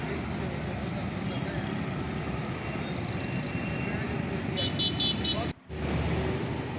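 Slow, jammed road traffic on a city street, a steady wash of engine noise from cars and motorcycles with faint horn toots, and a voice talking over it.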